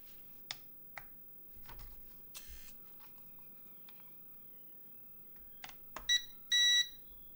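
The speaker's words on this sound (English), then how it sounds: "Beep beep from the controller." Several short electronic beeps near the end, a quick double beep then a longer tone, following scattered clicks and handling noises in a quiet room.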